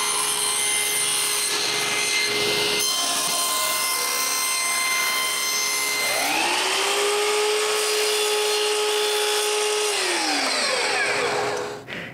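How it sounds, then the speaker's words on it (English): Table saw whining at full speed as thin wood strips are ripped against the rip fence, with a rising tonal whine of the blade biting through the cut mid-way, loud and close, then spinning down. "set the rib fence, and cut some strips"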